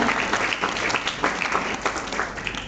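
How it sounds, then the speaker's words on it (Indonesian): An audience applauds candidate pairs one, two and three after a debate, with close, lively clapping that pulses slightly in loudness and carries on without pause. "Boleh dong kasih tepuk tangan dulu ke paslon nomor 1, 2, dan 3"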